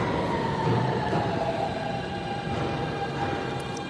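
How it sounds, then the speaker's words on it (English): A W subway train rumbles loudly and steadily past at close range, a continuous roar of wheels and cars with no voices. "Is it the W train?"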